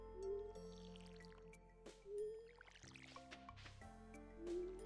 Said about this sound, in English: See if we can water all these.